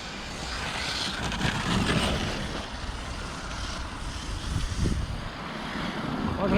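An Arrma Mojave RC car's electric motor runs at half throttle outdoors, a fluctuating whine and rumble that rises and falls as it drives, moderately loud with some wind.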